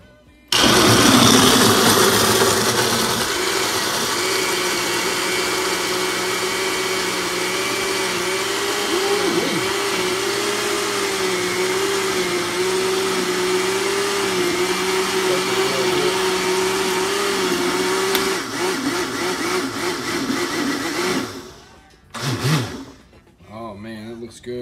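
Blender whirring steadily as it mixes a homemade energy smoothie, a loud sustained motor drone with a slight wobble in pitch, then stopping abruptly near the end with a few brief bumps.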